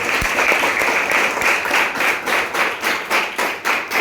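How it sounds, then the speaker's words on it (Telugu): Audience applauding for Venkat at a yoga session, steady dense clapping from a crowd that keeps going with a rhythmic pulse through the whole stretch. "వాళ్ళకి ఒకసారి చప్పట్లు కొట్టండి"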